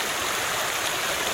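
Creek water rushes steadily past a built dam, a dense, even, close splashing flow with no pauses or voices.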